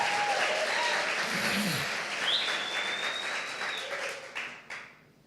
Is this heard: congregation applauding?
yes